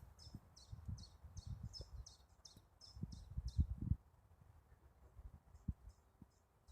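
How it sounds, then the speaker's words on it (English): Faint, repeated high chirps of birds singing in the distance over low rustling and thumping noise, the calls coming in a steady series then trailing off. "if you listen just for a little bit, you'll hear the birds."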